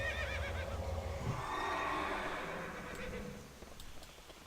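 A horse whinnies in a fantasy video game as a character mounts up, a loud wavering neigh followed by snorting and faint clip-clop hoofbeats, with game ambience underneath.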